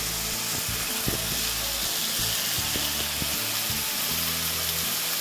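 Marinated fish fries on a bed of tomato and onions in a pan for a traditional Bengali doi maach, giving a steady close sizzle with occasional clinks and scrapes.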